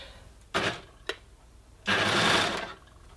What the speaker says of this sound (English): you might find here that your machine struggles a little bit to get over this seam